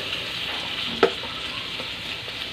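Pork and tomatoes fry in a pan with a steady, close sizzle throughout, broken by one sharp clack of a utensil near the middle and a few fainter stirring taps.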